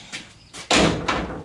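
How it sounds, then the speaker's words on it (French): The door of a Citroën Traction 11B car being opened and closed nearby, a couple of soft clicks and rattles followed by a firm metallic shut and a lighter latch thud. "Je ferme la porte."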